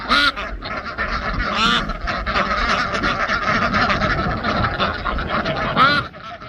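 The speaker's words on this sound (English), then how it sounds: "Line up the ducks, Mumbles." A flock of pet ducks quacking loudly and continuously at close range in a backyard coop area, with a person talking over the busy, overlapping calls.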